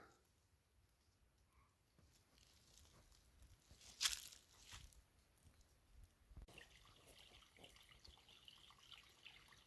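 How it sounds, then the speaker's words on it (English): Soft, steady trickling water seeping from the ground with a brief louder splash in the middle, heard alone outdoors at moderate distance on a mountain trail. "Well, that sounds like water."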